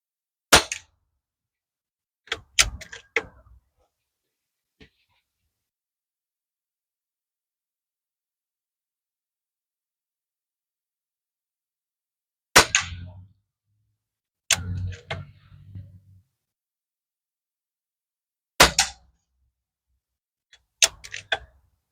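A Pinty air rifle fires at cans, sharp isolated cracks spaced several seconds apart, some followed by brief metallic rattles or clicks, with quiet gaps between shots.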